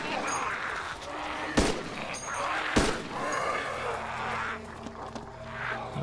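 Gunfire in the video game DayZ Mod: two sharp, loud shots spaced about a second apart ring out over a busy background of ambient game noise and faint crowd-like murmur, with a few softer pops later.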